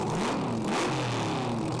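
A Camaro drag racing car roars close and loud with rising, revving engine tones as it accelerates hard, a continuous, dense blast filling the whole moment.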